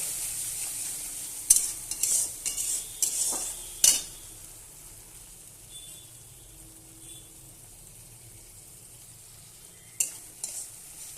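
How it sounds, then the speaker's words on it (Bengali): Potatoes and paneer with a little ginger-garlic paste are stirred in a pan: a few scraping, clattering strokes over a soft sizzle, then mostly low frying hiss with another brief stir near the end. "সামান্য একটু আদা রসুন বাটা দিয়ে আমি নাড়ব।"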